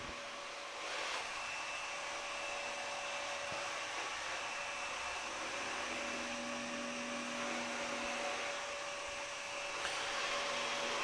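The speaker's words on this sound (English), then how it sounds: "usually the vac will just go in a back and forth motion" A Samsung Powerbot R7040 robot vacuum cleaner runs with a steady, fairly quiet motor whine and airy hum, unchanging throughout with no talking.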